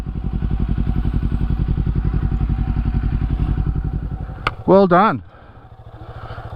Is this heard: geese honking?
no